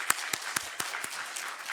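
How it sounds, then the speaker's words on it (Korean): Church congregation in a Korean Sunday service gives a few sparse claps of thanks, roughly six distinct slaps at an uneven pace over soft room noise, fairly close and moderate in level. "우리 감사의 박수 하겠습니다."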